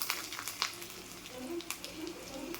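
Curry leaves sizzling and crackling in hot oil while tempering for coconut chutney, a steady close frying hiss with a few sharper pops, heard alone.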